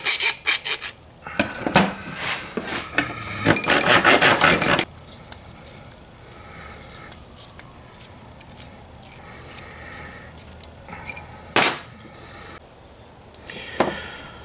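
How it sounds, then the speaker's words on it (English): A thread file rasping around the outside edge of a pair of metal scissors during restoration, loud rhythmic filing strokes at first, then quieter scraping and rubbing with a few sharp metallic clicks. "Now I'm just going to go around the outside of this with the thread file."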